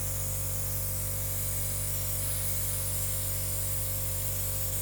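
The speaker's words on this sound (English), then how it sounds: "Dual action airbrush. If I just push down, no paint should come out." A dual action airbrush sprays paint onto a fishing lure, a steady, soft, close hiss of air and paint mist that runs without a break.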